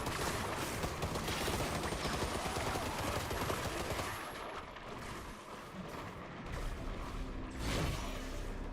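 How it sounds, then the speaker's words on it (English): Rapid semi-automatic SMG fire from the roguelike shooter game Armatus, dense, loud overlapping shots for several seconds, easing briefly midway before another burst near the end. "That semi-automatic SMG is so horrible"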